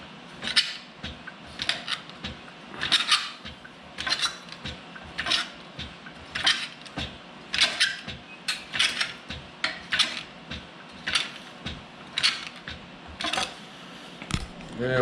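Sheet metal being shrunk with a shrinker while shaping a patch panel for a Hemi drift truck, giving repeated rhythmic metallic clanks and squeezes, close and moderately loud, roughly one every second.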